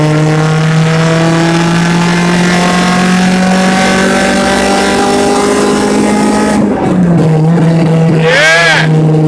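A Honda-style VTEC car engine pulls hard in fourth gear, a loud, close, steadily climbing drone that rises in pitch, stumbles briefly, then surges again near the end.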